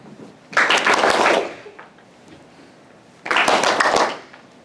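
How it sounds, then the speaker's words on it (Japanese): An audience of adults claps fast and steadily in two bursts, each about a second long, while a tissue is thrown up and caught. A short quiet gap separates the bursts, which sound close and loud. "投げて、キャッチするまでの間、拍手をしてくださいってやるんです"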